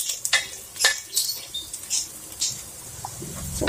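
Sliced dried squid goes into a cooking pan of coconut-milk malunggay stew, giving a quiet scatter of small clatters and light pattering taps, close and brief, with no one talking.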